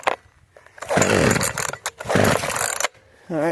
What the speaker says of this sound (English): I don't know if I can start a chainsaw well.